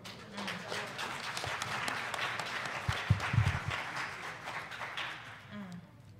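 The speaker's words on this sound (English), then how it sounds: "I was hoping the applause would be a little bit longer." Applause from a panel audience at a criminal justice discussion event, fairly faint and distant, scattered claps with murmuring voices under it, tapering off toward the end.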